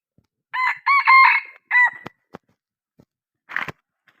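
A wild junglefowl rooster crows close by, one harmonic call repeated in quick bursts, followed by a few sharp clicks and a short rough noise.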